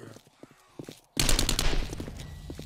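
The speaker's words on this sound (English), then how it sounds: "Everybody gets a little bit of SMG right now." An SMG fires in the 7 Days to Die console game, first a few scattered shots, then a sudden loud sustained burst of rapid fire that tapers into lighter repeated shots.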